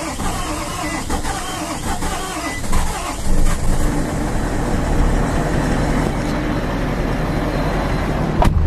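A Nissan Titan XD pickup engine with an EGR delete cranks and catches, then settles into a loud, steady rumbling idle close by, with broadband mechanical noise throughout.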